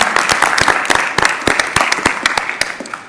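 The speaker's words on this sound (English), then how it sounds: "let's give him a round of applause." Short burst of applause at a state transportation board meeting, with irregular sharp claps from a modest group of attendees, fairly close and steady for a few seconds.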